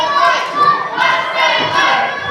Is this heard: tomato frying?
no